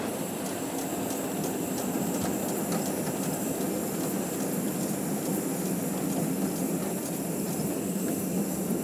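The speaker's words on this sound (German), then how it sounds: "jetzt fahren wir in unseren Bahnhof ein." A train pulling into Oberursel station rumbles steadily with a constant mechanical drone and faint clatter, growing no quieter, as it rolls along the track.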